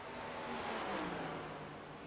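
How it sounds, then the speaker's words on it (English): A race car engine whirs and drones as a lap car circles a racing video game track at Indianapolis Motor Speedway, heard as a steady, fairly distant hum. "this is a lap car going around Hoffman right now"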